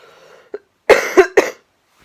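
A person with Covid coughs close up, a small hack followed by three harsh, rapid coughs, then silence.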